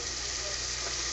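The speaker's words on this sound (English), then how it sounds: "Now as these onions are frying in this fat with these spices" A continuous, even sizzle of onions and spices frying in hot oil, close and steady throughout the short moment.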